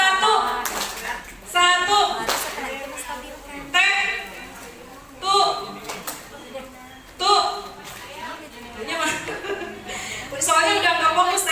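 Teachers and students in an Indonesian class forum clap on cue in short bursts, with voices chanting and laughing between the sharp claps.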